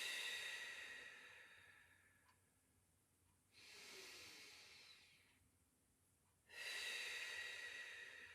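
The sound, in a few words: deep breathing during Pilates exercise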